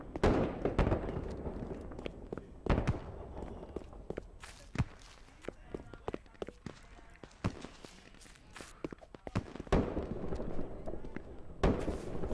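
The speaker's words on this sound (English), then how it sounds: "Where's he shooting at?" Sharp gunshots crack in a western war video game, scattered single and clustered reports at varying distances over quieter in-game ambience and movement.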